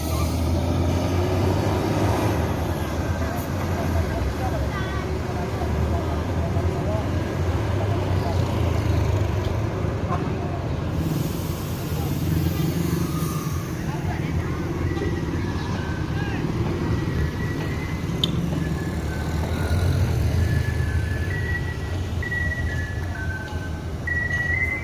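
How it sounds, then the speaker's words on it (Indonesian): An NPM bus, Firkansa 53, pulls away with a continuous low engine rumble and traffic noise, steady and fairly loud throughout, with occasional voices in the background. "Bus ini langsung berangkat."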